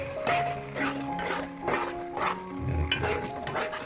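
A spoon stirs milk powder into pumpkin halwa in a metal pan, with repeated scraping strokes in a steady rhythm, close and fairly loud, and a thud near the end.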